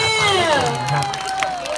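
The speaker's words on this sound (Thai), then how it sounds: "ขอเสียงปรบมือน้องหน่อยเรย" Schoolchildren cheer and clap for a contestant at a school festival activity, a close, lively mix of high young voices shouting and whooping together in a short burst.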